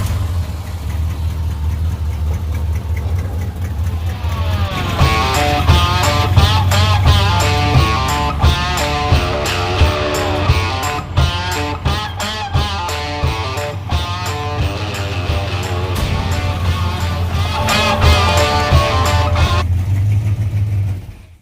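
A 1984 Dodge with a newly replaced factory ignition on a test drive, its engine droning loud and steady, then revving up and down repeatedly as it accelerates and shifts.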